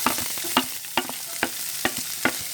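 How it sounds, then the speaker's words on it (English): Grated carrot with curry leaves stirred in a frying pan, a spatula scraping in a steady rhythm of about six distinct strokes over a soft background sizzle, close and alone with no talk. "mix it or stir it very well"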